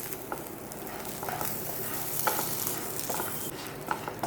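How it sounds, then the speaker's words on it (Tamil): Coriander leaves fry in a little oil in a pan, a faint soft sizzle with scattered stirring scrapes spaced irregularly, quiet and close. "கொத்தமல்லியும் நல்லா வதங்கிடுச்சு"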